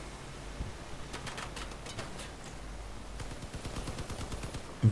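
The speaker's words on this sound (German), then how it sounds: "schöner Schuss, schön getroffen" Cannon fire on a truck in the vehicle combat game Crossout comes as a run of sharp, mid-distance shots with short gaps between them, followed by a rapid burst of quicker reports over low background noise.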